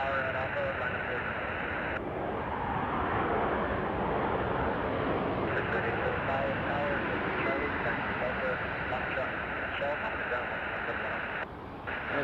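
At Kelowna airport, an airliner landing uses its jet engine thrust reversers, producing a loud, broad rumbling roar that holds steady throughout, with radio chatter and voices faintly audible underneath.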